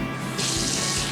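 Cold water from a kitchen tap pouring into a bowl, a steady close splash that swells louder partway through the short burst, with no voices.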